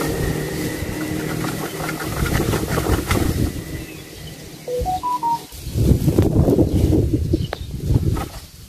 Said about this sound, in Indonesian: Takut ada motor ini.